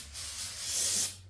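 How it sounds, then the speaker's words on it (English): Brake cleaner is sprayed onto the stud washer spots of an LS6 cylinder head on a C5 Corvette engine rebuild, heard as one close, steady aerosol hiss lasting about a second before stopping. "I'm going to go through with brake clean. Clean those off"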